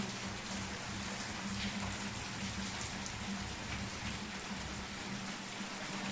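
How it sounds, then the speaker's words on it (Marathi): Dense, steady rain pours continuously on surfaces nearby, a loud unbroken hiss with no voices. "असा पाऊस जोरात चालू आहे"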